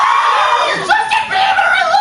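Performers at an improv comedy show imitate screaming fangirls at a concert, producing loud, sustained high-pitched shrieks and squeals with overlapping voices.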